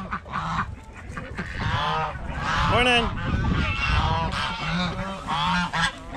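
Farm ducks and geese honk and quack loudly and repeatedly close by while being fed lettuce, a busy overlapping chorus of calls with a brief spoken greeting.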